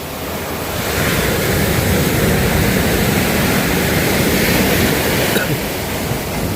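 Ocean waves crash and wash onto the shore beside a beached fishing boat in a continuous loud, close roar of surf blended with wind buffeting the microphone.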